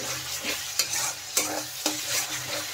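Spice masala sautéing in hot oil for a vegetarian potato and pointed gourd curry, a steady sizzle broken by three sharp scrapes of a spoon stirring the pan, close and without talk.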